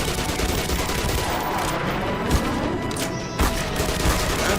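Enemy machine gun fire in the video game Black Mesa forms a dense, continuous barrage of rapid shots that stays loud throughout, with a few heavier bursts standing out.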